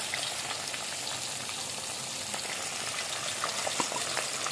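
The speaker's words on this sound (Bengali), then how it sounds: "এদিকে মাছটা ভাজা হচ্ছে" Katla fish frying in hot oil for a village-style paturi, a steady dense sizzle with scattered sharp pops and crackles, moderately loud and continuous with no talking.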